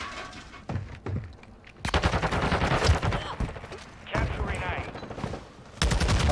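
Rapid gunfire from a video game, bursts of shots crackling loud and close in several volleys, with players talking over the shooting.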